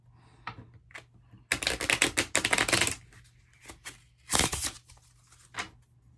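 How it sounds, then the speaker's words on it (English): Cards riffle-shuffled in several quick bursts, each a crisp fluttering rush, separated by quiet pauses and light handling taps. "shuffle the cards"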